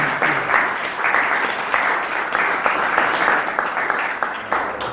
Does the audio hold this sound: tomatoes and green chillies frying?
no